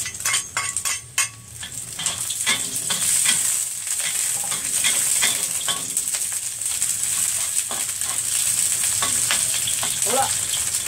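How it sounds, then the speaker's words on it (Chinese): Ginger and scallion whites stir-frying in oil in a hot wok, a continuous bright sizzle with clinks and scrapes of a metal spatula against the wok, louder at first and then steady, close by. "咁我哋爆香啲薑啊，同埋葱白先。"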